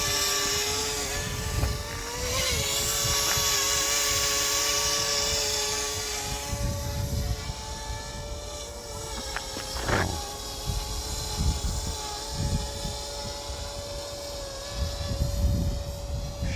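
A DJI Mavic Mini drone flying in strong wind gives a steady high-pitched propeller whine with shifting tones, loud and continuous, with wind buffeting and rumble underneath and a brief knock near the middle.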